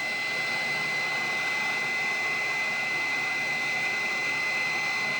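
A Cyclone cooling fan on an RC car bench setup blows with a steady, unbroken whoosh and high whine, close and even throughout.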